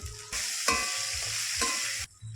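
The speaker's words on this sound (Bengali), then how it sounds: "কিছুটা কারি পাতা নিয়েছি দিয়ে দিচ্ছি" Chana dal, urad dal and curry leaves frying in hot oil, a loud close sizzle with a few sharp stirring scrapes, ending abruptly as the sizzling drops away.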